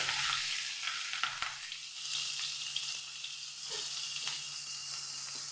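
Carrot, onion, curry leaves and green chilli sauté in a pan, a steady close sizzle with a few soft scrapes and clicks of stirring.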